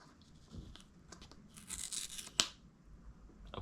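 A seal sticker on an Apple iPad box tears off in a short rasping strip, ending in one sharp snap, with soft handling rustles close by before and after.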